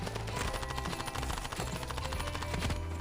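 Sustained automatic gunfire in the mobile shooter Standoff 2, a steady rattling stream of shots that runs nearly unbroken and fairly loud from start to end.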